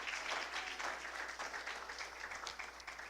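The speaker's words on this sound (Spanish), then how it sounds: "dele palmas al Señor," A church congregation clapping for the Lord during a Spanish-language worship service, a dense, steady wash of many hands, fairly faint and even throughout with no voices standing out.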